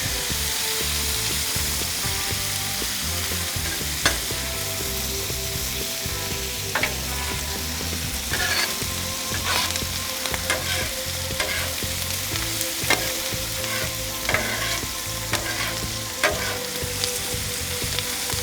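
Onions stirred around in rendered bacon fat, a loud, continuous sizzle punctuated by repeated scraping and tapping strokes of a spoon against the pan, close up with no talking.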